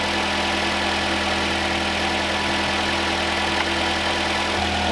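A vehicle engine idling steadily after being cranked, a continuous close, even rumble with a low droning hum and no speech.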